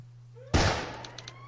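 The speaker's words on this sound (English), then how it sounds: "A gunshot." A single sharp gunshot in the Myosotis video game, a loud sudden crack with a short decaying tail, followed by a few faint echoing reflections in an otherwise quiet scene.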